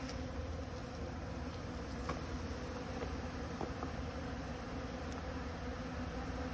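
Bees buzz around a hive where a beekeeper treats for Varroa mites: a faint, continuous insect drone with soft broadband hiss and occasional small clicks, no talk over it.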